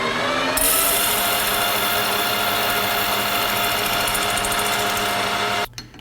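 Deburring a machined part on a lathe produces a loud, continuous rasping and grinding that holds steady for several seconds before cutting off abruptly.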